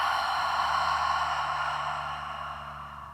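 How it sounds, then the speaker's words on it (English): A long, steady exhale during a yoga session, breathy and close, gradually fading over a few seconds against a faint hum. "Exhaling."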